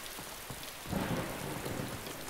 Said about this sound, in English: I wish it wasn't pissing down with rain.